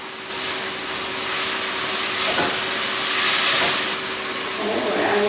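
Chopped spinach hits a hot pan and hisses in a loud, broad, steady sizzle that swells midway and then settles, with a faint voice underneath near the end.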